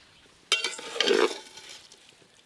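Chopped tomato and salt being stirred for paneer pulao, heard as a short burst of scraping and light sizzle with a metal clink, then fading to quiet.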